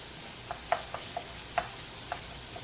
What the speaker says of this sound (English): I'm not cooking it on high because I don't want to burn it. I want it to, nicely saute.